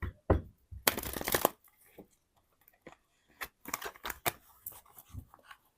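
Tarot cards shuffled by hand in bursts of crisp riffling and flicking, close and fairly loud, with short quiet gaps between handfuls.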